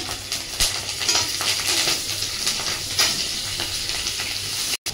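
Bay leaf, cumin and green chili sizzle steadily in hot oil in a home kitchen, a close, continuous crackling fry with a few sharper pops and brief stirring scrapes, no talking.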